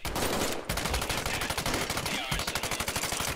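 Gunfire in the VR shooter Medal of Honor: Above and Beyond crackles in a fast, continuous string of sharp repeated shots. It sounds loud and close, with a brief break early on, and the rapid rhythm runs nearly the whole time.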